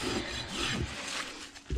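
A hoof rasp files along the bottom edge of a pony's hoof during a barefoot maintenance trim, giving close, gritty rubbing strokes in a quick back-and-forth rhythm.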